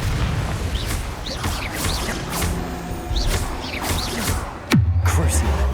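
Confringo blasting spells burst in rapid succession during a Hogwarts Legacy battle, loud crashing explosions over a busy, dense game soundscape, ending with a heavy low boom that rumbles on.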